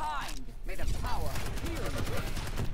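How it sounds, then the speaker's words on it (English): Shotgun and railgun fire from Quake erupts in a rapid flurry of game weapon shots during a one-on-one match. The shots sit under a commentator's voice. "I believe that was a shotgun into rail combo"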